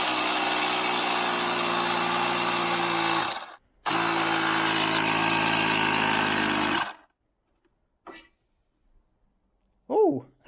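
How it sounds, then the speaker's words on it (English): An air compressor drives air through a hose into a mower's fuel tank to clear a blockage, giving a loud steady droning hiss that stops briefly, resumes, then cuts out, followed by a few small clunks and a short vocal sound. "I have my ingenious idea here of having my air compressor hooked up to the hose"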